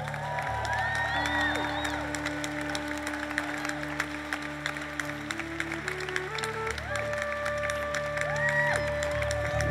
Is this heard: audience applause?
yes